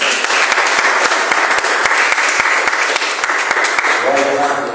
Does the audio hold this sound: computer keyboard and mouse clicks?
no